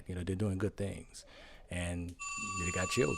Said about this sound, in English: That's my phone going on.